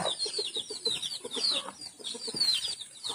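Chickens cluck and chicks peep close by in a rural yard, a busy overlapping mix of short clucks and thin high cheeps.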